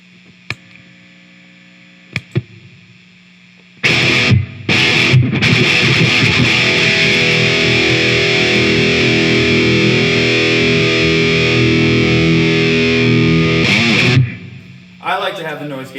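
A 1996 Fender Stratocaster Ultra electric guitar played through an amp with distortion and a noise gate; a few faint plucks, then loud sustained distorted chords that cut off abruptly to silence when the gate closes.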